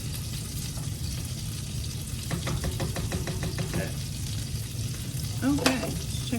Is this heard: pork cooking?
yes